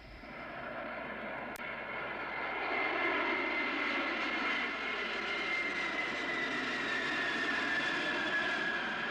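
A low-flying airplane passes over houses near the end of runway 31, its engine roar swelling from a rumble into a loud, sustained whine that holds steady overhead with no talking.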